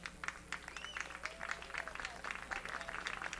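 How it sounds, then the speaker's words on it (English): The home crowd at a baseball game claps steadily for a player taking the field, a faint, distant patter of scattered applause lasting throughout. "He runs out to claps from the home team."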